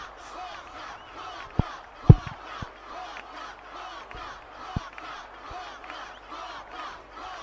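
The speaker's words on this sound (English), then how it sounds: "A bit nice everyone cheering for Walker now and then" A crowd cheers at a Blitzball match in Final Fantasy X, rising and falling in rhythmic chant-like bursts, with a few sharp thumps cutting through and no clear talk.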